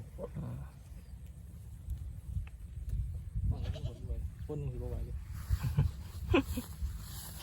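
Goats let out to graze in an open field after being penned up during a storm; several wavering bleats from different animals, some near and some farther off, rise over a low background rumble in the second half.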